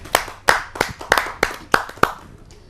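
An audience at a Hindi poetry gathering, a kavi sammelan, claps for a poet stepping to the stage: seven sharp, evenly spaced claps sound up close and fairly loud, more like a few hands than a full crowd.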